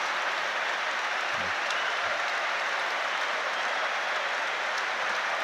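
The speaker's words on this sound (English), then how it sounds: "he's going to get a good round of applause" Steady, even applause rolls around a football stadium as the Brighton & Hove Albion crowd salutes substituted player Tom Hamed against Wigan Athletic, a continuous distant wash with a couple of low thumps.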